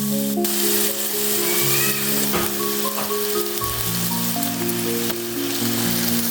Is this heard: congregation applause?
no